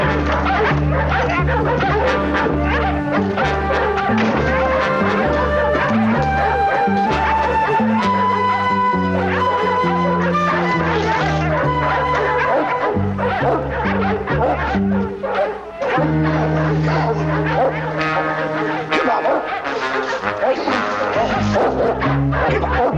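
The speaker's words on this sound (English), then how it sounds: "It sounds like every mutt in town's at it, don't it?" Many dogs bark together across a small Western town, a dense, continuous chorus of yapping, yipping and whimpering that stays loud throughout, layered over a steady tonal background.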